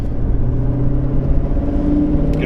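A 2018 Chevrolet Camaro 1LE SS accelerates hard with the window down, its engine a loud, steady, close rumbling drone that holds throughout, with no talk over it.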